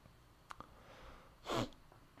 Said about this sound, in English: I'm gonna be sniffling quite a bit